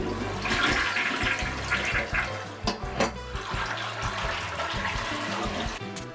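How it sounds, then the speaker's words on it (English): A household toilet flushes to drain its tank before removal, a loud continuous rush and gurgle of water lasting several seconds, close by with no talk. "We're just gonna flush all the water out."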